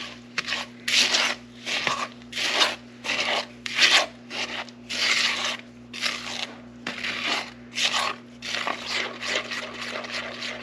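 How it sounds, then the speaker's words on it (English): A spatula stirs pumpkin pie filling by hand in a bowl, producing rhythmic scraping and squishing strokes about once per second, close and clear, over a faint steady hum. "I'm just going to do it by hand with my spatula"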